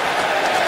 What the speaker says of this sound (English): A little sarcastic cheer, surprisingly, from this Ranger crowd.